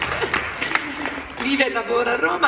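Audience applause rises at an outdoor summer-opening event in Leporano, Taranto, as a guest is introduced. The clapping is steady and moderate beneath someone speaking over it throughout.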